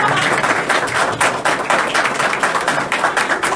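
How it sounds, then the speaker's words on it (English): An audience at a community talk applauds, a steady broad clatter of many hands clapping that holds at a loud, even level throughout. "Round of applause for our Baz."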